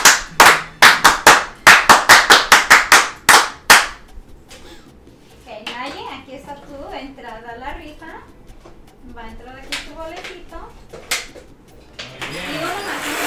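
About a dozen sharp hand claps in a quick, uneven rhythm, then people talk and laugh in the background.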